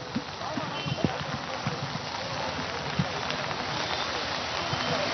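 Heavy rain falls during flooding in Nashik, a constant dense hiss of water with scattered thuds and drips, steady and close throughout.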